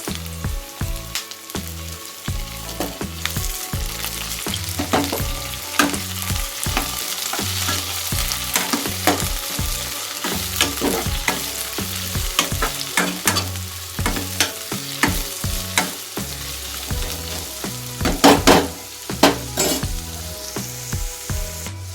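Pieces of bodakakara, spiny gourd, fry with onions in oil, a continuous close sizzle punctuated by frequent rhythmic clacks and scrapes of a spatula stirring the pan, with no voices.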